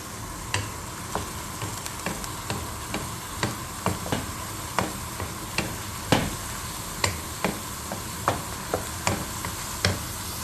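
Two tikkis frying in a pan hiss with a constant sizzle, punctuated by regular sharp taps roughly every half second, heard up close without speech.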